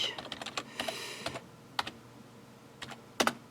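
Keystrokes on a computer keyboard while entering AT commands for a GPS module, irregular clusters of close, light clicks with short pauses between bursts.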